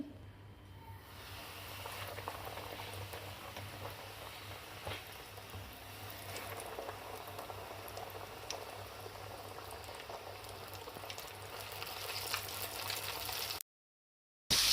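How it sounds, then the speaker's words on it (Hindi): Coated chicken for a zinger burger frying in hot oil, a constant crackling sizzle at moderate level with scattered pops, cutting off briefly near the end. "अब इसको हम तल लेंगे।"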